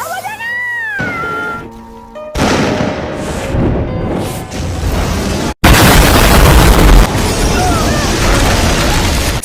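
A high whine fades into a sudden deep, rumbling gas explosion blast; after a brief gap, a sustained roaring burst of noise continues loud to the end.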